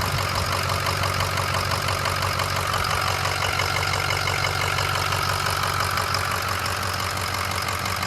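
A rebuilt Ford 6.0 Powerstroke diesel engine runs at a steady idle, loud and close, with a constant rattling, knocking drone and no voices.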